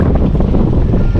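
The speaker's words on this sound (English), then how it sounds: "The wind's just blowing straight at us, so that's making it even harder." Wind gusting straight into the microphone of a heavy build-off bike during a first ride, a loud, continuous low rumble and buffeting that fills the whole moment with no voices.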